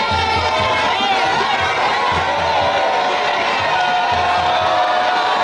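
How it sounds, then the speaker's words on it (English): A jubilant crowd of NDC supporters gives a rousing welcome to Vice President Amissah-Arthur, with continuous loud chatter, shouts and cheering from many people close by. "Vice President Amissah-Arthur arrived to a rousing welcome from the jubilant crowd."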